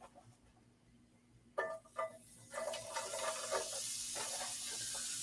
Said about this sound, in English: I'm going to throw in some onions and cook them down